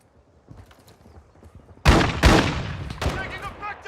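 Gunfire in the Call of Duty Warzone 3 DMZ video game at Al Mazrah, solo play with a shotgun: quiet scuffling gives way to two loud, close blasts and a burst of firing, with radio-style game voices underneath.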